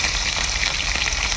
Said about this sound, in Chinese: 这油，这油是真崩，它不是假崩